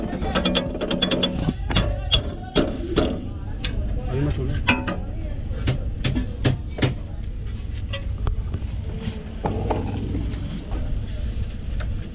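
A ratchet wrench clicks in rapid bursts while tightening a nut on the suspension of a Mercedes GLE-250, close and repeated with short pauses, as someone talks throughout.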